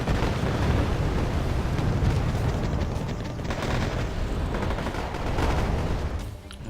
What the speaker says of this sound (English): Artillery being fired.